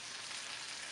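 Salmon and vegetables fry in a pan with a dense, even sizzle that stays steady and fairly quiet, close by and with no talk.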